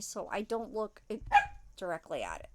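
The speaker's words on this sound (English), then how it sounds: "And that's my dog barking." A pet dog, a bossy female, barks indoors a few times at moderate distance, the short yaps partly overlapping a person talking nearby.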